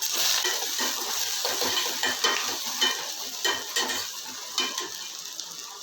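Fenugreek, cumin, pepper and sliced shallots crackle as they temper in hot oil, a bright close sizzle with soft repeated stirring scrapes throughout.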